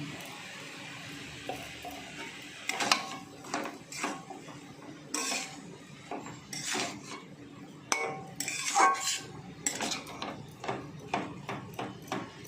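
Drumstick flowers and eggplant stirred in a pan with a metal spatula, giving a steady run of scraping strokes and light clinks against the pan, close and moderately loud.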